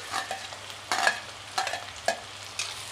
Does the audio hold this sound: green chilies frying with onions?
yes